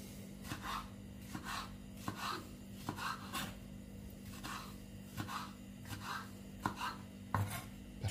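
A knife chops a capia pepper on a cutting board in a kitchen, with quiet, evenly spaced cuts, about a dozen sharp taps at a relaxed pace against a faint background hum.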